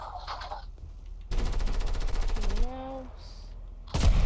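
Gunfire in the Fortnite Battle Royale video game: a rapid stream of automatic shots fills the middle of the clip, with a rising game tone after it and a final loud burst at the end.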